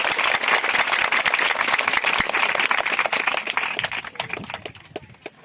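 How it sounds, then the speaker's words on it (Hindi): Dense, loud clapping from an audience at a public gathering, a steady burst of many hands that thins out and fades over the last couple of seconds, with no talking. "एक बार इनके नाम पर जोरदार ताली बजाकर उनका हौसला बढ़ाइए।"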